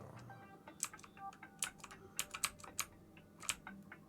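Computer keyboard keys pressed while steering a craft in Kerbal Space Program, a dozen or so close, crisp clicks in irregular bursts and short runs, fairly quiet with no talk over them.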